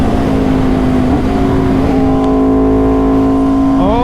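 An Aprilia RSV4 sport motorcycle pulls hard under acceleration, its loud, close engine note rising steadily in pitch through the revs, with a brief shift and climb again near the end.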